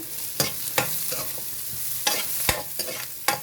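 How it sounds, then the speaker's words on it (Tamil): Onions sautéing in a pan for a Brussels sprouts curry, with a low continuous sizzle broken by sharp, irregular scrapes and clacks of a spoon stirring close by; no talking. "இங்கால வெங்காயம் வந்து வடிவா வதங்கிட்டுது"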